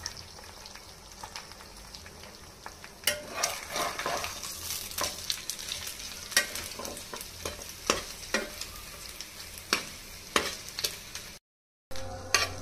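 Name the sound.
garlic and dried red chilies frying lightly in pan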